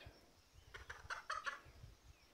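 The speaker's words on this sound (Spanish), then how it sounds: "Estos son dos pollos que traigo yo para acá, un pollo y una gallina" A rooster and a hen cluck together in a short burst of fowl calls near the middle, over a steady low rumble of background noise; no one talks.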